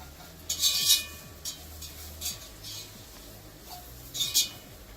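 Flour browns with bacon and onions in a pot for clam chowder, stirred with quiet, intermittent utensil scrapes and soft clinks over a low, faint background.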